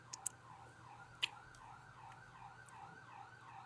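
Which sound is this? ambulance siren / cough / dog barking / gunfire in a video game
ambulance siren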